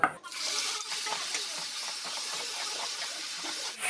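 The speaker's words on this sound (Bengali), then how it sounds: "এবার দিয়ে দেবো পেঁয়াজ কুচি" Chopped onion drops into hot mustard oil with dried red chillies, bay leaf and whole spices, setting off a loud, bright hiss that stays steady for a few seconds before easing slightly.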